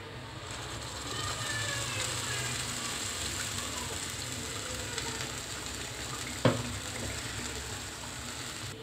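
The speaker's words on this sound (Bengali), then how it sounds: "এখন আমি ব্লেন্ড করা সেই শুটকিগুলো আর পেঁয়াজগুলো দিয়ে দিব।" Blended dried fish and onions frying in plenty of cooking oil in a pan, a steady broad sizzle running throughout with a brief sharp clatter near the end.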